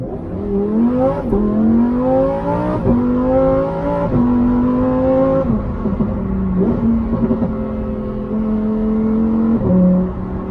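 A Lamborghini Huracan STO supercar drives and accelerates, its engine loud and close as it climbs repeatedly through the revs, with sharp drops at each gear change and a sustained roar.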